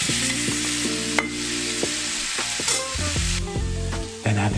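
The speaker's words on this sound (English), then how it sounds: "Add the veggie bacon mixture back in with the tofu." Tofu scramble with a veggie bacon mixture stirred in a hot pan, close, steady sizzle with repeated scraping and clattering strokes of a utensil, no voices.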